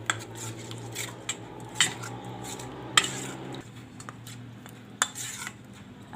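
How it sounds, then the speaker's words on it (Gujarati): Coriander being stirred into gram-flour pakoda batter with a spoon in a bowl, a series of light clinks and scraping knocks against the vessel at an irregular pace, close and fairly quiet, no voices. "થોડાક આપણે આમાં ધાણા નાખશું અને એને હલાવી લઈશું સરસથી."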